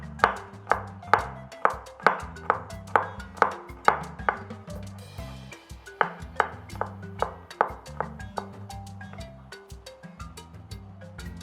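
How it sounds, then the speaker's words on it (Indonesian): Garlic cloves sliced with a knife on a cutting board in a home kitchen, a steady run of sharp, close chopping taps with a brief pause midway. "Kita iris bawang putihnya."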